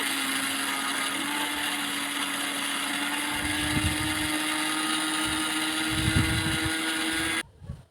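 Electric blender grinding mustard seeds into fine powder, a loud steady whirring motor with rattling grit, running continuously before cutting off near the end.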